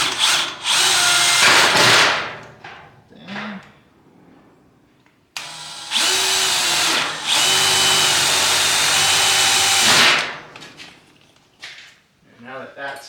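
A small power drill boring into the sheet metal of an Arrow shed, two loud whining bursts close by, the second longer, separated by a short quiet gap with brief spoken words.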